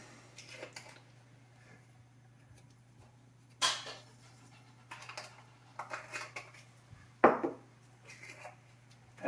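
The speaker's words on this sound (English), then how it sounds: "so I just mash the eggs up" Eggs being mashed in a bowl for a French bread egg boat, heard as scattered scraping and clinking of a utensil against the dish, with a few sharper knocks over a low steady hum.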